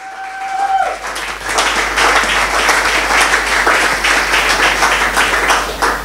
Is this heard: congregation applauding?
yes